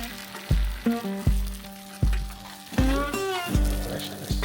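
Hamburger patties, eggs and bacon sizzle loudly in a pan over a morning fire, with steady frying hiss broken by repeated sharp clanks and scrapes of a utensil against the pan.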